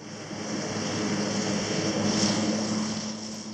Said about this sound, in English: In exchange, the plane overtakes us again.